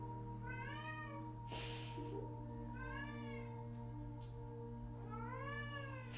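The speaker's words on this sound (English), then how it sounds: "Sorry, it's my cat." A house cat meows repeatedly indoors, giving three drawn-out calls spaced a couple of seconds apart over a steady background hum, with a short rustle between them.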